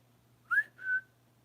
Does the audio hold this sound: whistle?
yes